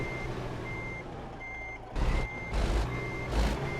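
A truck backing up in American Truck Simulator sounds a series of regular reversing beeps, with a low engine hum underneath and a few louder engine surges toward the end, all without talking.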